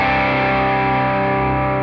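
Sustained saturated guitar tone from an amp pushed harder by a Tonex pedal placed in the post position, a dense, distorted chord ringing evenly for about two seconds with no voices.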